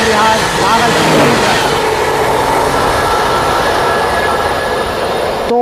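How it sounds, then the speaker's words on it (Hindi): A passenger train on the New Delhi to Gaya route roars steadily past during an overtake, with loud continuous rumble and rattling of wheels and wagons, close and unbroken throughout. "हमारी अगली ओवरटेक हो रही है नई दिल्ली से चल के राजेंद्र नगर को जाने वाली"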